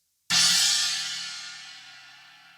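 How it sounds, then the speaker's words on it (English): A single China cymbal on a drum kit is struck once, a bright, trashy crash that rings loud and close before slowly decaying over a couple of seconds, alone with no talking. "I have a special cymbal called the China, which sounds like this"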